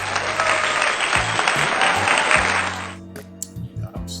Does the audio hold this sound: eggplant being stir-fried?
no